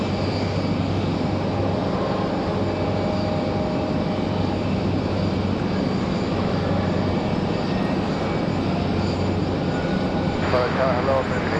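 An American Airlines jet arriving from Miami comes in to land at Raleigh-Durham, its engines a continuous loud roar that holds steady throughout.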